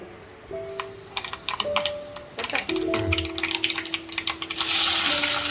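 Mustard seeds and fenugreek crackle and pop in hot oil in quick irregular bursts, growing into a steady loud sizzling hiss toward the end.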